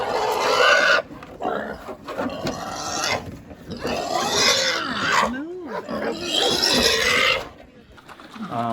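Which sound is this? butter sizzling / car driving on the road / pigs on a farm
pigs on a farm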